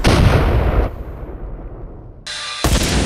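Heavy gunfire erupts in loud, dense bursts, a roaring volley that drops away, then sharp blasts return near the end, with no voices heard.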